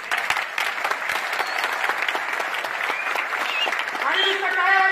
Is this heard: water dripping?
no